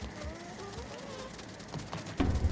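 A bee from the video game Grounded buzzes faintly and steadily for a couple of seconds, with a thin insect drone sitting low in the mix before a louder thump near the end.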